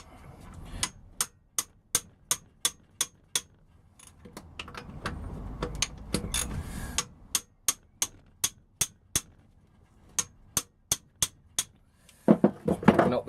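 Sharp metallic taps on tight bolts of a four-stroke motorbike engine, delivered in quick runs of evenly spaced strikes with short pauses between groups, close and clear over a quiet background.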